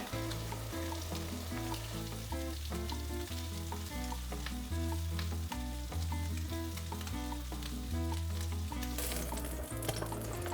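Shrimp for shrimp scampi fry in a pan with a steady, crackling sizzle, heard under rhythmic background music with a stepping bass line.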